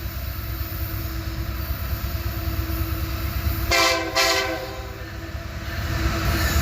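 A train rolls past near a roadside railway signal in Abbeville, its steady loud rumble and rail clatter continuing throughout, with a brief high horn or squeal partway through.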